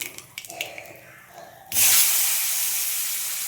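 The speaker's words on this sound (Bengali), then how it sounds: "দেখো মাছগুলো ভাজা হয়ে গেছে" Tengra fish fry in hot oil: after a quiet stretch with a few faint clicks, a sudden loud, broad sizzling hiss erupts and holds steady to the end.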